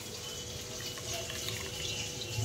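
Liquid from ground mustard paste being strained for a hilsa fish curry, a steady pouring, trickling flow of water running continuously at close range with no talking.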